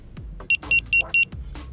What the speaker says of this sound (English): We just tap the power button, you'll hear a beep